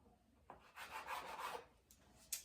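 A bench scraper drags and scrapes through soft vegan roll dough on a work surface, a few short quiet rubbing strokes with small clicks, close and alone.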